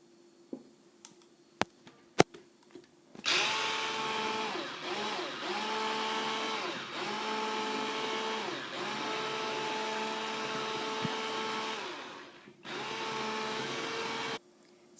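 An electric mixer beats cake batter of flour, vanilla and baking powder for a patterned roll cake, a steady motor whine that runs for about eleven seconds, breaks off briefly, then resumes before stopping. A few faint clicks come first, with no talk.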